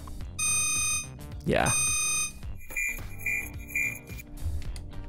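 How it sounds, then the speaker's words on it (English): Modern UI warning and alarm effects from a BOOM Library sound collection play in quick succession: loud sustained electronic alarm tones, a rising siren-like sweep, then rapid pulsing beeps, with a brief spoken word. "Warning sounds, so these must be like alarm kind of stuff."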